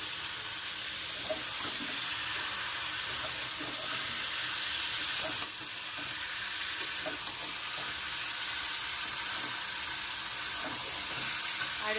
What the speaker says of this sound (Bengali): একটুখানি ভালো করে কষিয়ে নিই